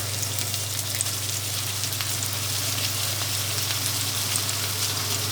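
Ginger garlic paste frying in hot oil with bay leaf and crushed garam masala, a steady close crackling sizzle over a low constant hum, with no talking.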